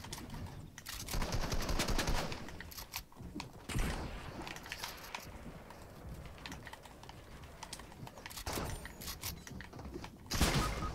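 Rapid bursts of enemy gunfire in a multiplayer shooter video game, clattering fast and steady across the whole stretch, with denser volleys near the start and the end.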